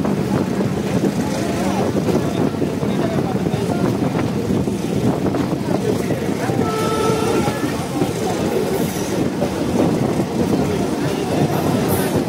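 The Bhatiapara Express train running from Faridpur to Bhatiapara gives a loud, steady, continuous rumble throughout, with faint voices mixed in.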